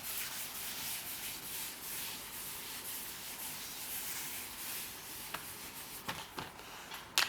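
Someone wipes writing off a board with steady, soft, continuous rubbing, faint and close, with a few light taps near the end.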